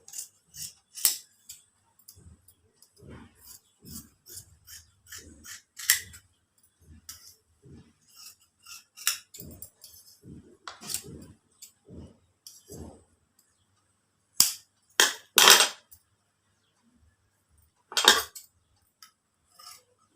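Scissors snip through Katori blouse fabric on a cutting surface in a series of short, sharp metallic clicks and crisp cuts, some clustered and some spaced apart, close and fairly clear with no talking.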